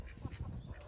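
Ducks quack in a short, soft cluster of nasal calls with a few quick bursts under a second, near a henhouse on a farm.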